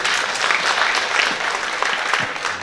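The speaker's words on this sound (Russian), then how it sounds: "Ваши аплодисменты." Steady applause from a concert audience at a live comedy-poetry show in St. Petersburg, dense continuous clapping filling the hall with no voices on top.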